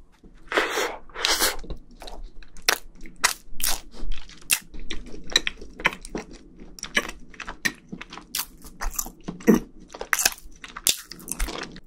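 Someone chews a scone spread with jam right at the mic, with crisp crunches and wet mastication repeating in irregular bursts and no speech over it.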